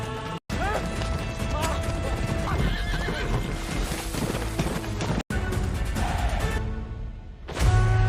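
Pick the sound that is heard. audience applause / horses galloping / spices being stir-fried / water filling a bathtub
horses galloping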